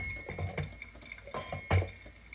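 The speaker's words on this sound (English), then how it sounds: "So you just pour the whole tin in." A whole tin of kidney beans being poured out to drain the liquid while making bean burgers: a few short, uneven sloshes and wet splats at close range, with quiet gaps between them.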